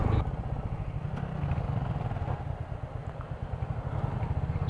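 A Honda Hornet 2.0 motorcycle rolls along slowly on a group ride, its engine putting out a low steady throbbing rumble close by.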